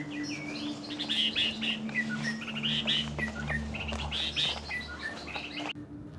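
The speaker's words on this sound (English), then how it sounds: "So many birds chirping everywhere." Many birds chirp and tweet all around on a secluded trail on Oahu in Hawaii, a dense, lively chorus of overlapping calls at moderate distance over a soft outdoor background, with no talk.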